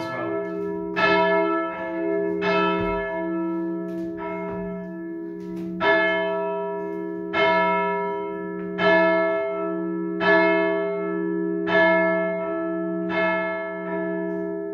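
A church tower bell at All Saints Parish Church, Runcorn, is rung with a steady swing, giving about ten loud, ringing strikes at even intervals, each hum overlapping the next, with no voices.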